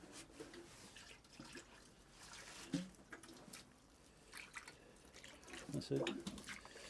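Fresh water is poured into a poultry self-feeder waterer on a homestead, giving faint trickles and drips with a few small splashes. Someone speaks briefly over it.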